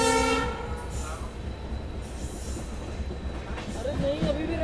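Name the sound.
Sri Ganganagar Jhalawar City Express train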